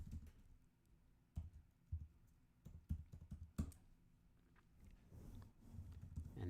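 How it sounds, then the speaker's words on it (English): A cat rubs her face against a microphone, producing a series of close, irregular bumps, thumps and scratchy rustles that come and go over a low background rumble, with no talking. "that is my cat rubbing her face on my microphone"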